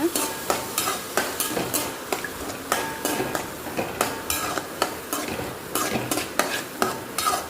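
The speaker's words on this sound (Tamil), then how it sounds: "இந்த மாதிரி பீசஸாக கட் பண்ணி நல்லா ஆயிலே நல்லா ஃப்ரை பண்ணிக்கோங்க" Grated coconut roasting in oil while a spoon stirs it, sharp rhythmic scraping strokes against the pan repeating over a continuous close sizzle, with no voices.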